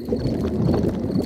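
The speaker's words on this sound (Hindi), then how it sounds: "ये डैडी के पेट की आवाज है।" A cartoon stomach rumbles in a low, continuous gurgling growl, close and steady for about a second, with no talking.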